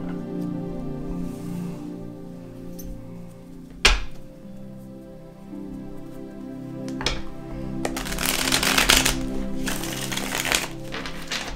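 A deck of tarot cards being shuffled by hand at close range, a sharp card snap near the start, then a long run of dense riffling and flicking that grows busier and louder toward the end over a faint steady background hum.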